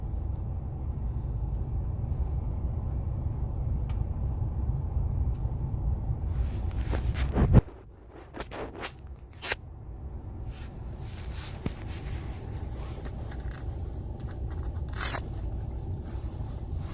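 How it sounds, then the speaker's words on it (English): Car park ambience before work: a steady low rumble of outdoor background noise with scattered scrapes and clicks, a brief loud scrape near the middle, then quieter open-air hum with faint distant knocks. "I'm in the car park, before my work starts"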